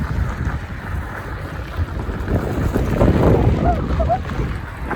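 Wind blows across a microphone during a fat-tire e-bike ride near a bridge, a steady gusty rush that swells toward the middle, moderately loud, with no speech.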